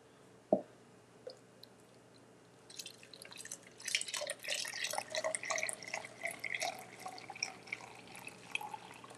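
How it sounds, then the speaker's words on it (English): Concentrate and water poured over ice for an iced drink in a home kitchen, heard as a lone drip, then a splashy, trickling pour with clinking that runs on for several seconds, moderately loud and close. "I'm going to do 1 cup of the concentrate and I'm going to do 1 cup of water and we'll pour that in over the ice"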